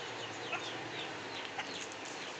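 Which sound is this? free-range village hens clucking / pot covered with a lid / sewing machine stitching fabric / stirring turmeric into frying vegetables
free-range village hens clucking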